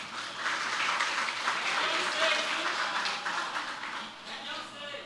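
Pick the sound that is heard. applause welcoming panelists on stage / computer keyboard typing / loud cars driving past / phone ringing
applause welcoming panelists on stage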